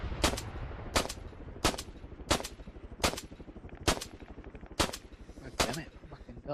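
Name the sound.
pistol gunfire in video game Arma 3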